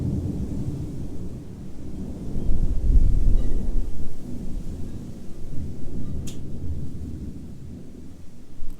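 Thunder rumbles through a storm, a deep low roll that swells around three seconds and lingers steadily, with a brief sharp crackle later and no talking.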